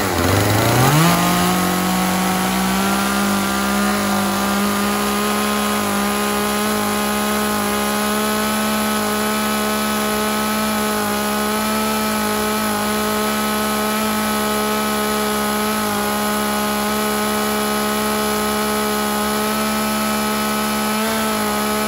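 A used Japanese petrol chainsaw engine runs steadily at a high, constant idle-to-rev whine after a quick start-up rise, loud and close with no talking.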